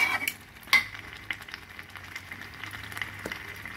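Chicken frying in oil, a steady low crackle and sizzle with scattered pops and a few stirring clinks, fairly quiet and close, with no talking.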